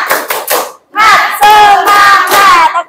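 A classroom group performs a rhythmic spirit clap during a lesson, with a few quick claps followed by loud chanted voices in unison, close and energetic.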